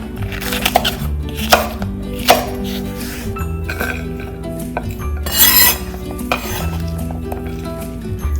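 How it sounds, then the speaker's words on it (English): Cooked green peppers are cut into pieces with a knife on a board, giving a few sharp taps among clinks of utensils and dishes, steady and close, over a faint musical background. "And then cut them into pieces."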